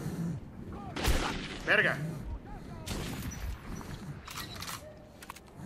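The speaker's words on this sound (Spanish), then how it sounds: "¿Un chingo de escopetazos?" Shotgun blasts in Metro 2033, several heavy booming shots spaced unevenly across a short stretch, close and punchy, with a man exclaiming in Spanish over the action.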